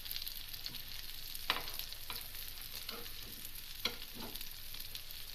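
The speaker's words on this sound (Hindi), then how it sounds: "ब्राउन हो रही हमारी कबाब" Aloo chicken kebabs browning in a frying pan give a steady soft sizzle throughout, with a few sharp spatters and light stirring clicks scattered on top.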